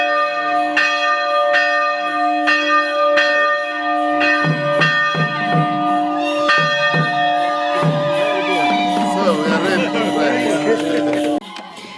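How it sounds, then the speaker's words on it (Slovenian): A church bell tolls steadily, loud and close, to open a celebration, struck first by a bishop; the repeated strokes ring on under a murmuring crowd before cutting off near the end. "Uradni začetek praznovanja je naznanil zvon, na katerega je z velikim veseljem prvi pozvonil sam gospod škof."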